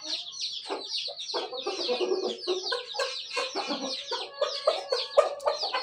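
Chickens in a village cluck and chatter continuously, several birds close by in a busy overlapping flock, with sharp squawks rising near the end.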